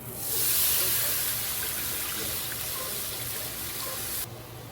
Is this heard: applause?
no